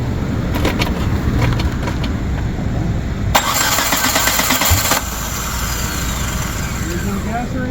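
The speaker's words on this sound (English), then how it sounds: "Keep cranking it." A car engine fitted with a Holley Sniper EFI cranks repeatedly without catching, a loud rhythmic starter whir in bursts. Voices talk over it.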